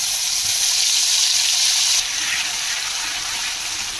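Masala cooking in hot oil during Bengali-style hilsa fish preparation, a loud, dense hiss of sizzling that runs steadily and eases slightly after a couple of seconds.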